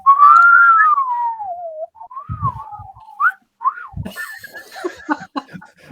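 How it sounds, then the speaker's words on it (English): A slide whistle glides in a long wavering tone that sinks in pitch, followed by short sliding chirps, with laughter and chatter breaking in afterwards. "That's a swanny whistle."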